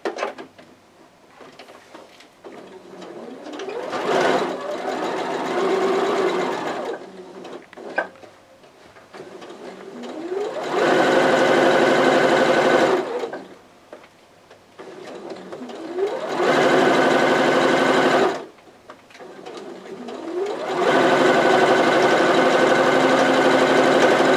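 A sewing machine stitches a one-inch seam on a pillowcase baby dress in several long, even runs, starting softer and then growing louder and closer, with short pauses and fabric handling between.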